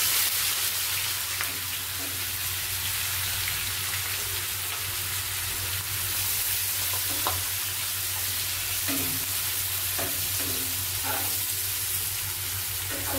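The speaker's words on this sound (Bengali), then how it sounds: "তো আমি কেটে রাখা পেঁয়াজগুলো এবার দিয়ে দেবো" Chopped onions sizzle and crackle in very hot oil that was just used to fry chicken, a steady bright frying hiss with occasional stirring clinks and scrapes, close and continuous with no talking.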